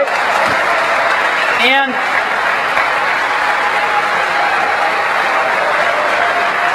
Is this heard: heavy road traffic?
no